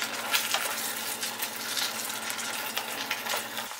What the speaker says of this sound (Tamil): இந்த இஞ்சி பூண்டு பேஸ்ட்டு பச்சை வாசனை போகிறதண்டிக்கும் நல்லா வதக்கிட்டுருக்கலாம்.